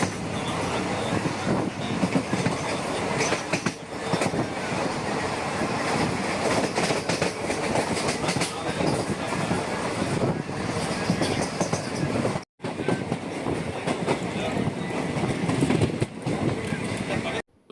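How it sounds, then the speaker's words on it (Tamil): A passenger train on the Coimbatore to Tiruchendur route runs toward Madurai Junction, a loud continuous rumble of wheels on rails with rhythmic clatter from close on board, cut by one brief gap near the end. "இந்த வண்டி இன்றைக்கி கூடல் நகரில் ஸ்டாப் பண்ணாமல் அப்படியே மதுரை ஜங்ஷனுக்குள்ளே என்ட்ராகிறதுக்காக போயிட்டுருக்கு"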